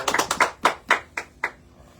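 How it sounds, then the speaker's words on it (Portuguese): A few scattered hand claps, about seven separate slaps spaced unevenly over two seconds, close and fairly loud, as a small group in a car applauds for Jesus. "Palmas para Jesus"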